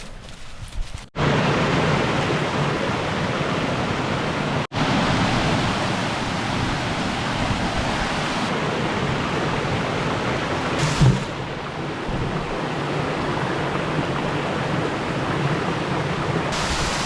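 Dismal Falls on Dismal Creek, a loud, continuous roar of rushing water heard up close, broad and unbroken apart from a couple of brief dropouts, with no voices.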